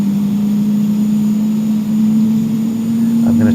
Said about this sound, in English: You can see the engine now starting to spool up.